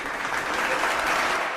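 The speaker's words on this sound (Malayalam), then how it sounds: "എല്ലാവരും ഒന്ന് കൈയടി." Lively clapping from a crowd at a school assembly, dense and continuous for a moment, fairly close and even in loudness throughout.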